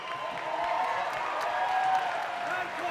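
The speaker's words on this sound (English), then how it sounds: "please put a round of applause together for both the fighters in the center of the ring" An arena audience at a professional boxing event applauds both fighters after a draw, with a dense, steady wash of clapping and crowd noise filling the space, heard at a moderate distance.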